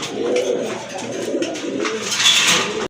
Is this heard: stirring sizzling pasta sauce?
no